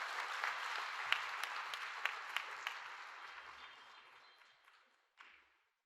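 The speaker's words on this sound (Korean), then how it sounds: "우리 축하의 박수 해주시기 바랍니다." A church congregation applauds in celebration at a Sunday service, steady dense clapping that slowly thins and fades, with a short final burst near the end before silence.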